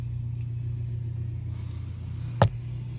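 Harvesting crew trucks pull away with a steady, low engine rumble, followed by one brief, sharp knock near the end.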